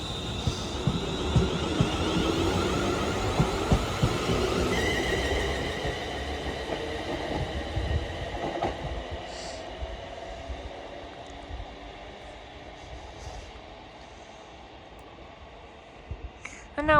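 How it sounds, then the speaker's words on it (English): A Scotrail train pulls out of Glasgow Central bound for Wemyss Bay, its broad rumble loud at first and then easing as it draws away, with faint wheel squeals and a few sharp high tones near the end. "Departing now is the 12:59 Scotrail service from Glasgow Central to Wemyss Bay"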